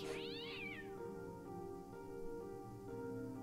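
A cat in the video game Fran Bow lets out a single drawn-out meow at the start, over a steady droning musical background.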